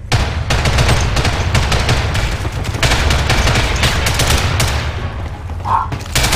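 Rapid bursts of automatic gunfire crackle almost nonstop in an online shooter match, Ghost in the Shell: First Assault Online, with dense overlapping shots and a voice briefly heard under the shooting.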